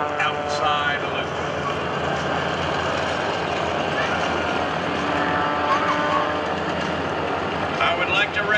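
Aerobatic airplane engine droning at an air force joint services open house air show as the pilot flies a small outside loop, a steady distant engine roar under an announcer's voice over the loudspeakers.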